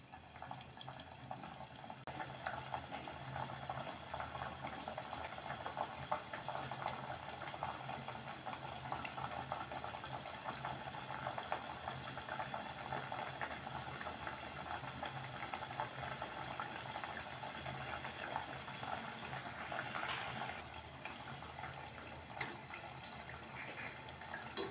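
Rava shakarpara pieces fry in hot oil over a low flame, giving a steady, dense bubbling hiss that carries evenly from start to finish with no voices.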